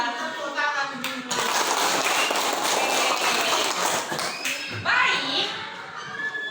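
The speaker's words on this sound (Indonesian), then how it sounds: "Tepuk tangan dulu." A classroom of children clapping together in a quick, dense patter for several seconds, fairly close and loud, tapering off as a voice and other chatter come through at the end.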